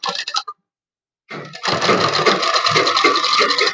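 A sewing machine stitches a halter-neck blouse, a brief whir, a pause of silence, then a steady fast mechanical rattle close by, with no voices over it.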